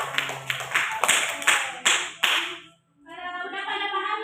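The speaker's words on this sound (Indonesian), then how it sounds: "Tepuk tangan buat Anggia." A small classroom group claps for a student during a microteaching practice lesson: a few sharp, uneven claps for about two and a half seconds, then a brief silence before a voice begins speaking.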